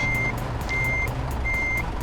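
A truck in Euro Truck Simulator 2 gives off its reversing alarm, three evenly spaced long electronic beeps over a low idling engine rumble, loud and close with no talking.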